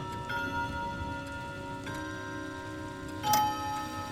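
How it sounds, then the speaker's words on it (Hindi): Faint, regular ticking of a wall clock in a quiet room, evenly spaced clicks over soft background hum. "साथ ही साथ सुना कमरे से दीवार घड़ी का साउंड।"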